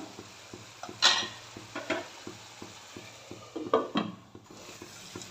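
Tomatoes and spices cooking in a covered pan on high flame for a dhaba-style lehsooni methi, a soft steady sizzle with repeated light ticking and a few louder clattering stirs and scrapes.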